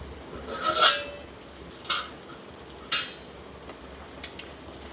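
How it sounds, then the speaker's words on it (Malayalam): A spoon stirs chicken curry made with coconut milk in a pot, giving a few separate metallic clinks and scrapes spaced about a second apart over a quiet background. "ഇത് നമുക്കൊന്ന് നല്ലതുപോലെ മിക്സ് ചെയ്ത് കൊടുക്കാം"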